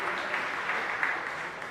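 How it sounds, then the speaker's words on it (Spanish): Church congregation at a parish Mass applauds a married couple celebrating eighteen years of marriage, a brief wash of steady clapping from a crowd filling the space. "Un fuerte aplauso para ellos"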